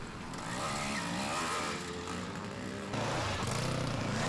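Over-40s and over-50s riders on classic dirt bikes racing a lap at Powmill, a faint, steady buzz of several engines at a distance with a rise in revs partway through.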